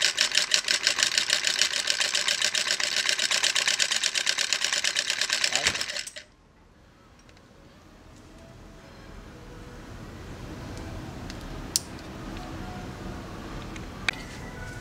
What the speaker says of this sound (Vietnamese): Khi mà mình ấn nút khởi động thì động cơ nó sẽ chạy.